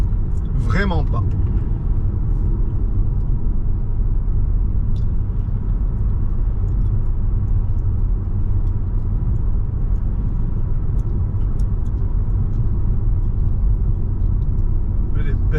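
A Porsche 911 GT3 RS engine rumbles in a steady, loud, continuous drone that stays close for the whole stretch, with a brief higher whine near the start.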